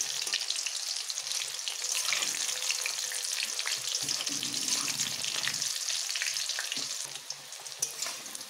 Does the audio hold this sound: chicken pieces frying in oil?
yes